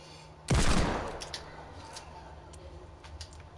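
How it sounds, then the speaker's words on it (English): A single hand cannon shot in a multiplayer video game bursts out sharply and loudly, then decays into a fading tail with faint ticks and clicks afterward. "Okay, then I'll just hand cannon him."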